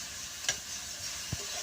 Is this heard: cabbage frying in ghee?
yes